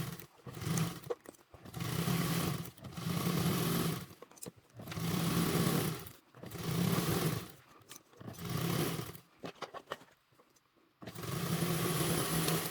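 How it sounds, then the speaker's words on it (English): Sewing machine stitching the base of a Taylor convertible duffle bag to its front panel at a 3/8 seam allowance, repeated whirring bursts of a few seconds each, separated by short pauses, close and clear. "let's get the base and the front main panel sewn together"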